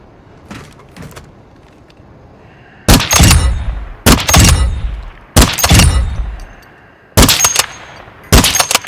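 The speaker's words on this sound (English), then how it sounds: "That was some sniping" Sniper rifle shots in Call of Duty DMZ: after a quiet start with faint distant pops, five loud, close, spaced blasts ring out about a second apart, each with a sharp crack and trailing echo.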